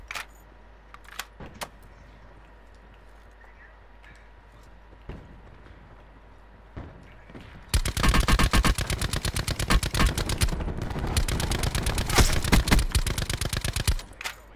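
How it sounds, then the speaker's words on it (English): Gunfire in the Call of Duty Blackout battle royale game: scattered single shots at first, then a long, loud, rapid barrage of shots that lasts several seconds before cutting off. "We're getting sniped from our back."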